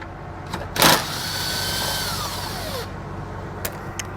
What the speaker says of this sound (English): If you do have that, you need to remove it using a 10mm socket